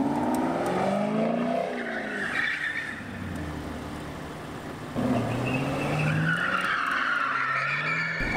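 A Chevrolet Camaro ZL1 spins its tires under throttle, the rubber squealing and skidding loudly over a revving engine in two long bursts with a brief lull between, close up.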